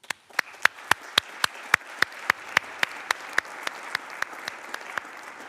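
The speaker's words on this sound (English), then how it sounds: "Let us give them a round of applause." Audience applause at a high-level parliamentary meeting on abducted Ukrainian children: a steady wash of clapping with sharp, regular individual claps standing out, sustained for several seconds with no talk.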